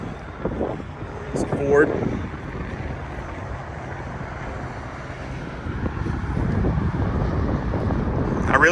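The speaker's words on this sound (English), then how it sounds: "It's getting pretty windy out here" Gusty wind buffets the microphone outdoors, a rough low roar rising and falling, with someone speaking briefly over it.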